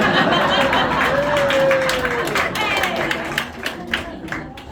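An audience claps at a magic show at House of Cards in Nashville. Scattered, crisp claps grow more distinct toward the end, under a talking voice and light crowd murmur.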